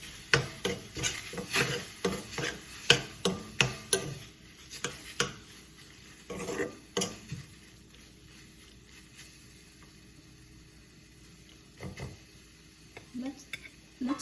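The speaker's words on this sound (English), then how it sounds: "Give it a good mix." A spoon stirs an eggplant pulp mixture in a pan in a run of rhythmic knocks and scrapes against the cookware, then goes quiet before a few more soft taps; faint speech is present.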